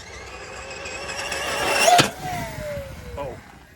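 A Team Corally Spark 6S radio-controlled car at a bash session accelerates with an electric motor whine that climbs in pitch to a peak, then drops away into a falling tone as it speeds off, with a person talking nearby.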